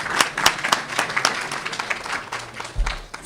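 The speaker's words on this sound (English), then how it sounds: "Can we have another round of applause for Alam Sahib?" A seminar audience claps after a law presentation, with moderately loud, uneven applause from a modest crowd that thins toward the end.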